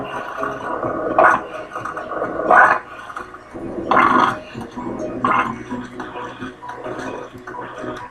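A coffee percolator burbles and gurgles in a series of uneven wet spurts, roughly six louder pulses across the stretch with quieter bubbling in between, heard close with no voices.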